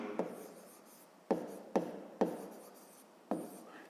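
Pen strokes write numbers on paper during a fifth-grade maths exercise, five short, crisp scratching taps spaced unevenly, close and quiet, with no talk.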